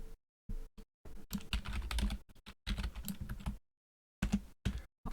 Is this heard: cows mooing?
no